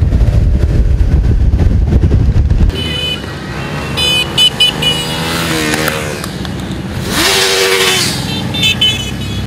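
Motorcycles roar past loudly in a bikers' parade through a city avenue, with several engines revving and rising in pitch one after another and horns tooting amid traffic noise.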